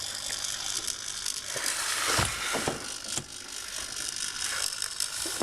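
Small ebot educational robot motors running during an offset test, giving a continuous close whirring buzz with a few faint mechanical clicks and ratchety ticks scattered through it.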